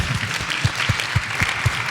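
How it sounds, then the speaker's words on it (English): A summit audience claps briefly, a close, lively patter of many hands with a few heavier, regularly spaced thumps running underneath. "That deserves an applause."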